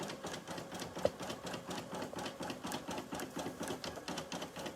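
An embroidery sewing machine stitches out in a fast, steady mechanical rattle, close and continuous, with one brief sharp click early on.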